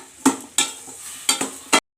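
Mushrooms with a teaspoon of turmeric cook in oil in a pan, stirred in a few sharp scraping bursts over a soft, steady sizzle, close and fairly loud with no talking.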